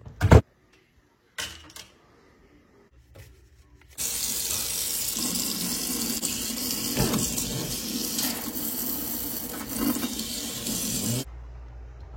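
Water gushes from a faucet in a steady, close rush that starts abruptly after a few quiet knocks and runs for several seconds before cutting off.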